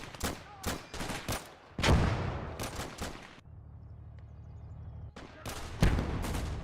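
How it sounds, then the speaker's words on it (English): Mortar and gunfire in a video war game: a rapid series of sharp, punchy shots and blasts in irregular clusters, with a brief hum-filled lull in the middle before more firing, and no voices. "Yeah, that mortar is gonna hurt."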